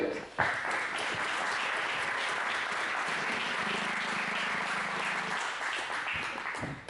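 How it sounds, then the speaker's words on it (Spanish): Audience applause welcoming a doctor to the stage at a plastic surgery talk, clapping that starts abruptly and holds steady for several seconds before tapering off, with a faint low hum in the middle. "recibamos al doctor Prado con un gran aplauso"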